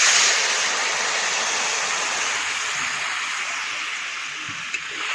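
Water is poured steadily into a vessel while cooking at home, a continuous broadband splashing rush that is loudest at the start and tapers slightly, with no talk.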